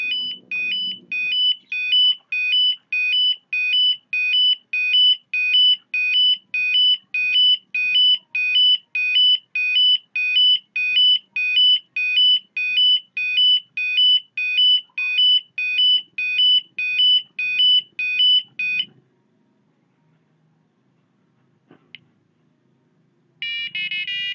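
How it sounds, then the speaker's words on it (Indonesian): A sequence of steady, bright beeps from an Arduino-driven piezo buzzer working through an eight-note tone melody, loud and regular for about nineteen seconds, then a pause with faint handling noise before the tones start again briefly. "Dibunyikan semua tone, melodi not ini tadi, kemudian durasinya."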